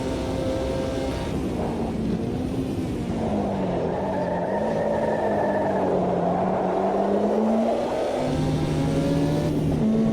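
Race car engine in Automobilista 2 held at high revs through a four-wheel drift, a steady loud drone with pitch sagging and climbing as the throttle is worked, continuous with no talk.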